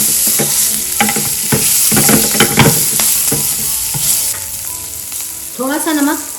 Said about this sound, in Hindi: अब हम इसमें ये बीन्स डाल देंगे।